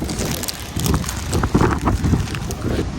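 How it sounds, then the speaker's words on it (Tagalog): Strong coastal wind on Taiwan's north coast buffeting the microphone, a steady rushing roar with gusty surges, loud and close, no talking. "ang hangin guys."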